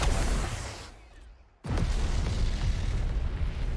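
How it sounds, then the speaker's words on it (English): Meson cannon strike in the game Wasteland 3: a loud roaring blast fades to near silence, then a second heavy boom cuts in sharply and rumbles on at full strength to the end. "we do have a nice Meson cannon strike, hopefully."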